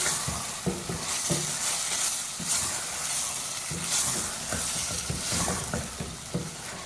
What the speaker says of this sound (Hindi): इसको मसाले के साथ डाल के भूनेंगे।